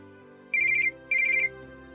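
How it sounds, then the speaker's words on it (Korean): A phone ringtone sounds in two short bursts of rapid electronic trills, each about a third of a second long and separated by a brief pause, playing over a steady low background hum. "전화."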